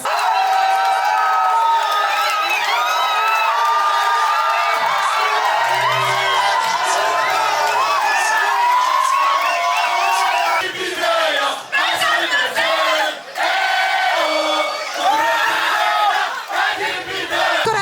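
A large crowd of Moroccan fans in Berlin celebrates a World Cup win with loud, sustained cheering, whoops and chanting voices that swell and surge.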